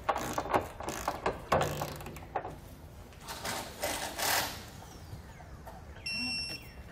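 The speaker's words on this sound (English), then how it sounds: "We're now ready to come back and torque it down." A ratchet torque wrench tightens the Draw-Tite Max-Frame trailer hitch bolts on a 2018 Jaguar F-Pace, giving bursts of close, rapid clicking with short pauses between strokes, followed by a brief higher beeping tone near the end.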